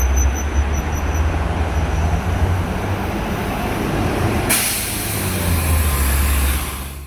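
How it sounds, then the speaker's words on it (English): A Mercedes OH1728 high-floor express bus passes with a steady, loud engine and road roar lasting several seconds, a bright hiss of tyres or air swelling partway through before easing off. "This bus is a Mercedes OH1728 fitted with an express body"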